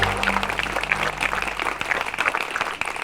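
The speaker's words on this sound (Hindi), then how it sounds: "बच्चों, माननीय अतिथि जी का स्वागत तालियां बजाकर कीजिए।" Schoolchildren at a school event applaud to welcome a guest with continuous, dense clapping that holds at an even level for the whole stretch, with no speech over it.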